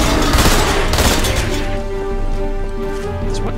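Rapid, loud gunshots from an ordinary gun in a video game crack off in a quick cluster, then give way to a lingering ringing tail and ambient game noise.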